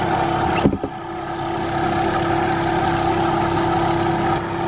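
Maple sap vacuum pump running with a steady, droning hum and a faint chugging pulse; a short clunk near the start as it switches on, then continuous even motor noise.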